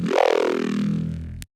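One gritty Serum synth bass note growls with a swirling, sweeping phaser tone, held briefly and then stopping sharply.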